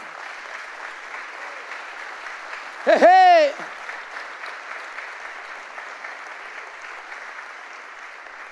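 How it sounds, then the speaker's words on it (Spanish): A church congregation at a Spanish-language sermon breaks into a short, loud burst of applause lasting under a second, cut through by a voice's playful vocal exclamation, then fades back into steady room ambience. "Den un fuerte aplauso a Jesús por esto."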